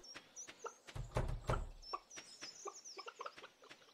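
Chicken clucks from a farm in the video game Stardew Valley, a run of short, clipped calls and soft thuds at moderate level with no talking.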